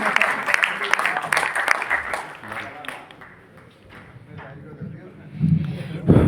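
Audience clapping at a live Hindi kavi sammelan poetry recital in Delhi, loud at first and then thinning out, with voices over and after it and a few sharp louder claps near the end.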